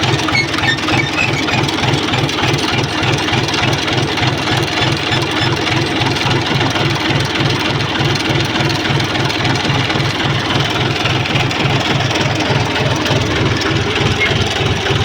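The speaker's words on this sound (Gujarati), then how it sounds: "અમારું ટ્રેક્ટર વચ્ચે જગ્યા રાખી છે. ઓટોમેટિક ઓરણીથી અમે ચણા આ રીતે વાવી રહ્યા છીએ." Tractor running in a field while an automatic seed drill sows chickpeas, a loud steady engine chug with a fast regular pulsing throb and faint mechanical squeal, no voices.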